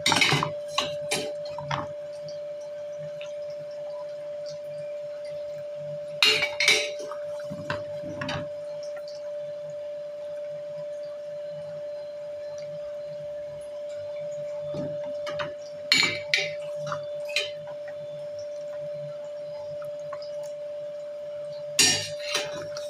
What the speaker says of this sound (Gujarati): ઘી ઓગળી ગયું છે, હવે એને વાસણમાં કાઢી લઈએ.